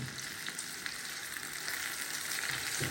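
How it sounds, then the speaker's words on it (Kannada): Cauliflower pieces fry in a pan with a steady, dense sizzle, close and continuous throughout, with faint stirring sounds and no talk. "ಈಗ ಗೋಬಿ ಫ್ರೈ ಮಾಡ್ತಾ ಇದ್ದೀನಿ"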